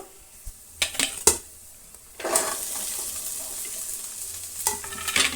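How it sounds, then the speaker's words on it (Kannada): Chopped okra (ladies finger) tipped into a hot pan and stirred, a few clanks of utensil on metal followed by a steady, bright sizzle of frying that continues to the end. "ಈಗ ಸಣ್ಣದಾಗಿ ಕಟ್ ಮಾಡಿರ್ಕ ಇರುವಂತಹ ಬೆಂಡೆಕಾಯಿನ ಹಾಕೋಣ"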